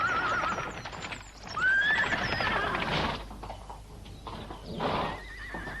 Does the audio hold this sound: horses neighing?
yes